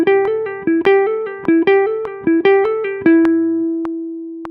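A jazz guitar plays a four-note phrase in strict triplets, a clean single-note line of rapid evenly spaced plucked notes repeating in a bouncing pattern before a final note is left to ring, close and alone.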